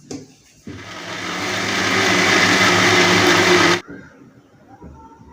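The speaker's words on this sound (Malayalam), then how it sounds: "മിക്സിയിലിട്ട് തേങ്ങാപ്പാലിൽ നന്നായി അരച്ചെടുക്കണം." A kitchen mixer grinder blends cooked cassava and pitted dates in coconut milk, starting with a short burst and then running as a steady, rising whir for about three seconds before stopping abruptly, followed by quiet.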